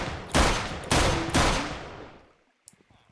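Three loud Minecraft gunshots ring out in quick succession, each with a booming echoing tail that fades, followed by a few faint clicks.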